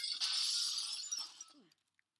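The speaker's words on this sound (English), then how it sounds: "Oh, stop breaking glass." Glass shatters in the Phantom Forces shooter game, a loud, sharp crash followed by a brief scatter of tinkling shards that fades into silence.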